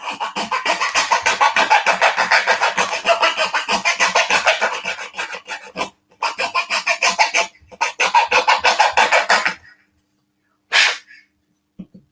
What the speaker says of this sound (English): And that is where your money is, sanding it down.